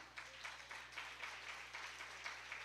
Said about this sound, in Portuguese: aplauda ao Rei Jesus por isso